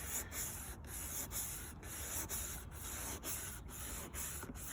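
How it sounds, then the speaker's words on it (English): Turtle Wax is rubbed by hand on the headlight of a 1999 Volkswagen Beetle in quick, regular back-and-forth strokes, a soft scrubbing rasp repeating about twice a second, close and quiet with no talking. "And you can see it's rubbing some stuff off it."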